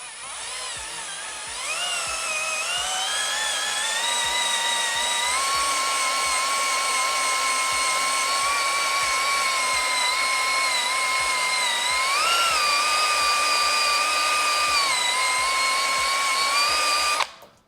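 A power tool spins a wheel against years-old car emblem adhesive on painted bodywork at moderate speed, giving a steady, close, high whine that runs almost unbroken with slight pitch wavers before cutting off.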